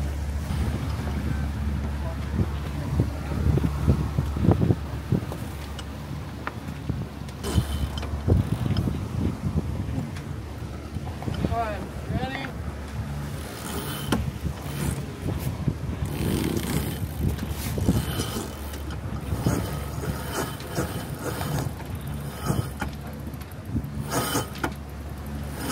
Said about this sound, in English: The wind just came back.